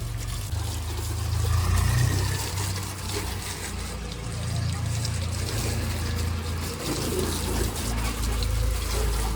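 Water splashing and pouring steadily while a motorbike is rinsed clean at home, a continuous wet rush with a low rumbling undertone and no voices.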